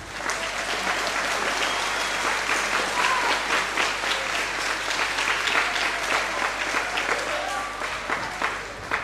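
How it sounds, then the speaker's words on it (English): An audience applauds students at a school spring concert for 10- and 11-year-olds, dense continuous clapping from a large crowd that fills the room and fades slightly near the end. "We definitely want to give a huge round of applause to the students for everything that they did today."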